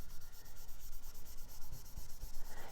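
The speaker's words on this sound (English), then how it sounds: "even though technically I am sanding the surface, I really like to think of it as polishing" Sandpaper rubbing across the wooden carved top of a Floyd Rose electric guitar, a steady close scratchy rasp with a few brief low knocks near the end.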